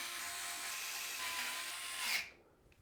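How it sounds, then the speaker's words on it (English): A power screwdriver whirs steadily, driving screws to fix a motherboard into a Lian Li Lancool 217 INF PC case. The loud, high-pitched buzz runs for about two seconds, then cuts off abruptly into near silence. "We'll then secure the motherboard to the case using 9 of the screws with a little lip around the outside."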